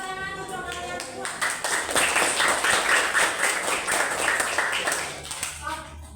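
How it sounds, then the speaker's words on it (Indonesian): Classroom students clapping together, a burst of quick overlapping hand claps that swells, holds for a few seconds, then tapers off, with voices audible at the start and end. "Tepuk tangan untuk kalian semua."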